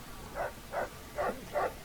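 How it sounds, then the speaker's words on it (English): A dog barks four times in an even rhythm in the video game Fallout New Vegas, each bark short and mid-pitched, moderately close, with no talking over it. "What are you barking at?"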